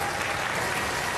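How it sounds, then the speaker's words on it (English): Brief burst of audience applause at a televised robot combat contest, dense steady clapping from a crowd, loud and even for a moment with no voices over it. "give them a round of applause"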